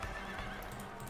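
Horses in a battle game, neighing with hooves clip-clopping at a gallop, steady and fairly loud for about a second with no talking.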